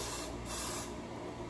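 A can of Got2b spray hisses continuously and close during a closure wig install, one long steady burst that cuts off at the end.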